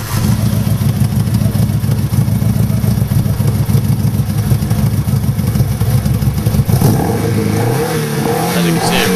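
A Nova kit car engine runs loudly and steadily with a throbbing mid-range note, then shifts pitch near the end as the revs change, close to the listener.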